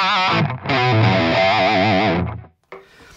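An electric guitar plays through a Valeton GP200 multi-effects unit with reverb and delay switched off: a loud, distorted sustained chord with wavering pitch that cuts off abruptly, then a short quieter strum.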